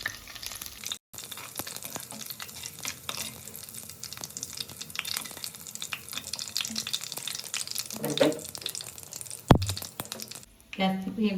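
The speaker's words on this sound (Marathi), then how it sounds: "लसूण चांगला परतल्यावर आपण वाटण त्याच्यात परतून घेऊया." Ground spice paste frying in oil with garlic in a pan for a Konkan-style surmai fish curry, a steady crackling sizzle with occasional stirring scrapes and brief pauses, with some speech faintly in the background.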